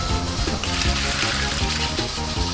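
A blender grinds pine nuts with milk, salt and sugar. Its motor gives a loud, steady whirring hum with a churning liquid rush throughout, with no voices.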